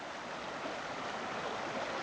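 A creek on a bushland trail in a conservation area near Helensburgh, Wollongong, gives a steady, soft, broadband rush of flowing water, faint and unbroken, with no voices.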